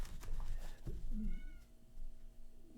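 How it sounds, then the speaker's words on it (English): A house cat meows at the door wanting to come in, a few drawn-out cries close by over a quiet room, with no talking. "I got a cat that wants to come in."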